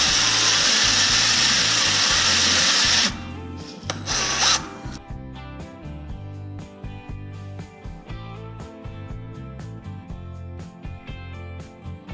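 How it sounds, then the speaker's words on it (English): A power drill grinds loudly and steadily for a few seconds, re-drilling welded-up bolt holes on a side dump trailer, before stopping, leaving softer rhythmic knocks and clatter afterward. "Now with the bolt holes welded up, we can re-drill them to the proper size."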